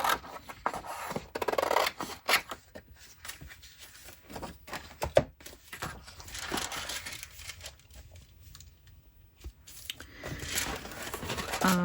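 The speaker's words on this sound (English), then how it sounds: "So I'm going to cut this because I don't need it all." Paper being cut with scissors for a junk journal cover, a run of close, crisp snips and rustling paper handling, with intermittent quieter pauses and no speech.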